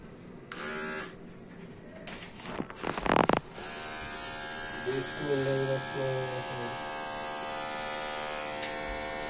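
Electric clippers shave a pet's coat at a pet clinic in Dhaka, giving a loud, close, steady buzz that starts and stops, then runs continuously while voices speak briefly over it.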